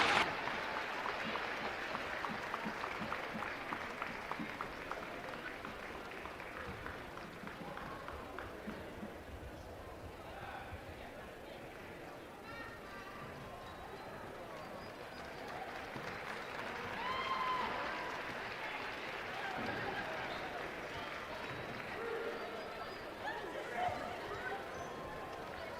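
Crowd applause in a high school basketball gym honoring state champion cheerleaders, steady and sustained with a busy hubbub of chatter mixed in throughout.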